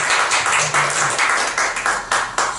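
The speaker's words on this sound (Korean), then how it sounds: "우리 박수로 환영하겠습니다" A church congregation gathered for a Wednesday evening service claps in welcome for a guest, a dense, steady patter of many hands close by that continues throughout.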